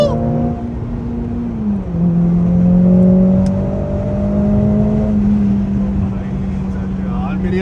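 A Mercedes-AMG engine pulls hard in manual mode, its loud droning tone holding then dropping at a shift before climbing again, steady and close from inside the car with a voice under it.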